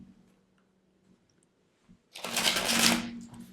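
Tarot cards are shuffled by hand after a near-silent pause, giving a short, dense burst of close riffling and flapping that lasts about a second.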